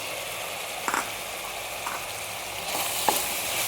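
Mutton frying in a pan with coriander, chili, turmeric and mutton masala powders, a steady hiss with a few light scraping stirs, close by and without talk.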